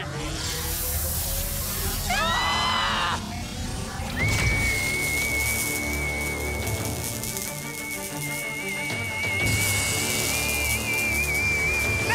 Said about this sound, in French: jamais je n'ai entendu de sifflement si puissant